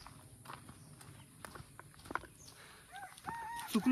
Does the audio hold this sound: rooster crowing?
yes